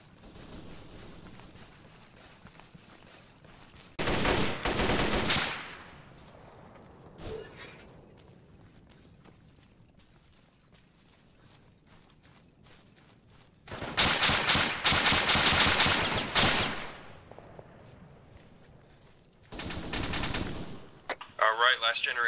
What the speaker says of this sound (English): Again, all gunfire never usually means good things.